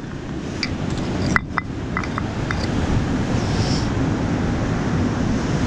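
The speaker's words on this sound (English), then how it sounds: "There's some rough seas happening." Rough sea surf rolling onto the Holderness coast in Yorkshire, a continuous low roar of waves mixed with wind buffeting the microphone, with a couple of faint clicks early on.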